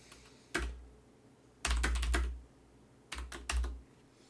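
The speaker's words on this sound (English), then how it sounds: "I'm typing everything wrong" Computer keyboard typing during a livestream comes in three separate bursts of rapid, close key clatter, with quiet pauses between them and no speech.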